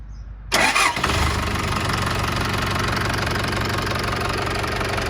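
An Isuzu NPR 115 hp truck's diesel engine cranks briefly, catches with a loud burst, then settles into a steady, rumbling idle with a clattering knock.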